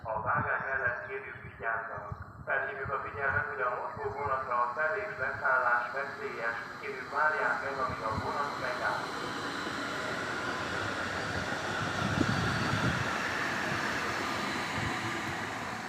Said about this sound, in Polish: I wjeżdża pociąg Interregio Civis Budapest